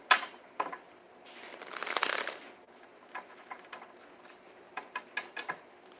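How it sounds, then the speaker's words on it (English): Cards riffled and shuffled close by, a longer burst of riffling followed by a quick series of soft taps and snaps as the deck is squared and shuffled again. "And 1 more shuffle, and then I'm going to side shuffle."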